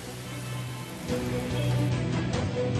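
Rain falls in the Pattukottai area of Tamil Nadu, a steady hiss of drops hitting surfaces. A faint low hum runs underneath, and there is no speech.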